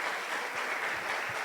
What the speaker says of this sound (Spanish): Señora Rosa María, un fuerte aplauso, de verdad que es un trabajo muy grande.